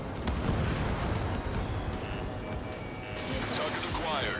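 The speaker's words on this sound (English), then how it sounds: "Missile launched." A missile fires during a jet fighter battle in the video game Ace Combat 7: Skies Unknown, a dull rumbling roar and booms layered under continuous radio voices and engine noise.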